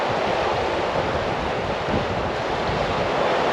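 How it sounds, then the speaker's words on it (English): Waves washing around a fishing boat on the tidal mud flats of northern Australia, a steady broad wash mixed with wind noise against the microphone, close and continuous, with no talk. "All them waves are coming with us."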